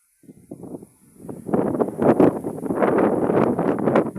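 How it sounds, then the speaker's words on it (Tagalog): Gusty wind buffets the microphone on a high lookout above Taal Volcano in Talisay, Batangas, starting light and growing into a strong, continuous roar. "Ang lakas-lakas ng hangin."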